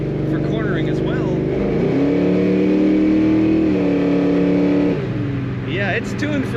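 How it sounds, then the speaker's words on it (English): A 1970 Chevrolet Chevelle Malibu convertible's exhaust while driving, a loud, steady, deep engine drone that climbs in pitch, holds, then drops as it shifts, close and continuous with faint background noise. "And a great sound out the exhaust of this car."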